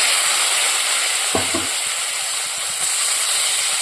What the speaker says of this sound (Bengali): কড়াতে দিয়ে দিয়েছি কালো জিরে এবার আমি এখানে করলাগুলো দিয়ে দেব